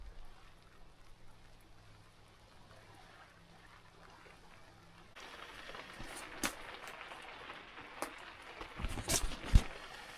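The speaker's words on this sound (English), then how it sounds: "once we get another 10 or 15 minutes of solid rain here" Rain patters on an Otter Resort tent and nearby surfaces, faint and soft at first, then a denser, louder spatter with scattered sharper drops.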